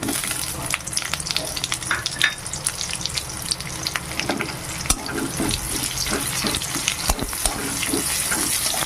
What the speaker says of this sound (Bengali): এবার লাল করে ভেজে নেব খুব সুন্দর ভাজা হয়ে গেছে দেখুন পেঁয়াজ আর রসুনটা